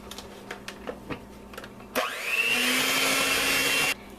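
An electric mixer blends cake batter made with cinnamon and brown sugar, switching on near the middle and running as a steady, loud whir for about two seconds before cutting off, after a few soft kitchen clatters.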